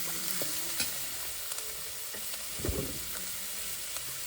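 Chopped cashews and onion roasting in a pan give a steady, dense sizzle with faint scattered stirring scrapes and a brief louder clatter partway through.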